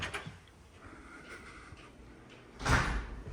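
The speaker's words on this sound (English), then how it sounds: "So again, nice screen door here." A screen door onto the rear yard of a single-level home slides open, a soft rolling rush ending in a louder rattling bump near the end, close by, with no one talking.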